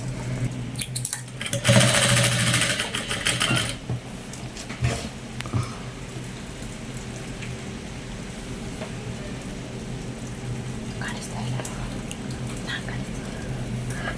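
A sewing machine stitches the sleeve of a uniform shirt in a loud whirring burst lasting about two seconds, then shorter intermittent runs, with a faint steady hum and occasional low talk around it.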